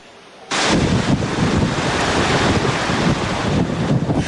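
An overflowing Mabitac River rushes after nonstop heavy rain, a loud, steady broadband roar of water that begins abruptly and continues without pause, with wind buffeting the microphone.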